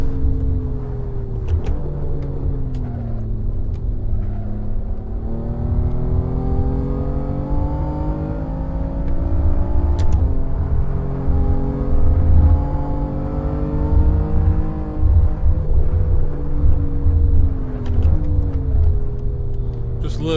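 A BMW M3 engine drives a track day in the Assetto Corsa racing game, a steady loud drone that rises and falls in pitch through gear changes and braking, with possible faint commentary underneath.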